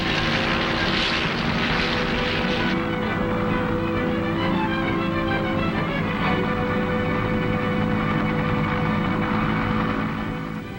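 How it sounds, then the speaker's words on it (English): Military helicopter engine drones loud and steady overhead during a Vietnam War flight above a beach assault force, a dense roaring hum with a brighter rushing layer that drops away partway through. "We fly above the beach assault force"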